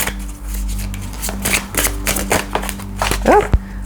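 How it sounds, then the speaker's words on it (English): A mini tarot card deck is shuffled by hand in quick, close riffling bursts that repeat throughout, ending in a brief scatter as a card flies loose. "but it's much easier to shuffle"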